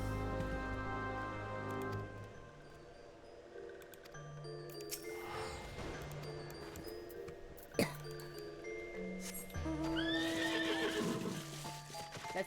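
A "bug horse" in a video game whinnies several times, with close galloping hoofbeats and clip-clop running underneath a game music bed. The neighs rise clearly around the middle and again near the end.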